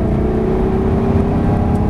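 A Lamborghini LP640 engine at full throttle on a racetrack, a loud, steady high-rev roar droning continuously and close, with no voices.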